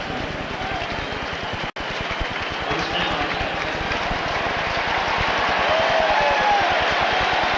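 Stadium crowd at a 1990 NFL game between the Raiders and Seattle roars steadily after a first-down run, a dense continuous wash of cheering and clapping that swells slightly toward the end, with one brief dropout early.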